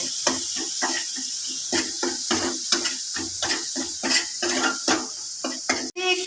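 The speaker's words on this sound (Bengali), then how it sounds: "স্বাদ মতন লং নুন দিয়ে এটাকে ভালো করে তেল ছাড়া পর্যন্ত আমি একটু ভেজে নেব" Masala with turmeric and salt frying in oil in a pan for a vegetarian potol curry, with a steady run of close scraping and clinking stir strokes against the pan under a faint constant sizzle, and one sharp knock near the end.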